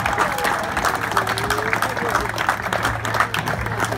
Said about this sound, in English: We want to give Shannon a humongous round of applause for being an awesome, awesome dude.